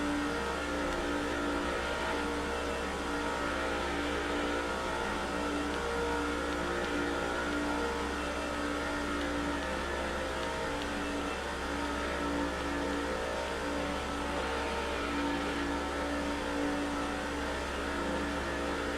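Race car engines at Talladega in the NASCAR 06 video game: a steady, droning roar of multiple stock car engines held at high revs, continuous and loud for the whole stretch, with no talk over it.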